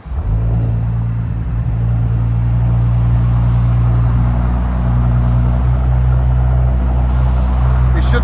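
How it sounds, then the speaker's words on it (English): A 2019 Audi S7 with a 2.9L twin-turbo V6 and fully straight-piped exhaust, fitted with a new diffuser and tips, rumbles loud and close at a sustained rev for the whole stretch. "Audi S7, fully straight pipe with new diffuser and tips."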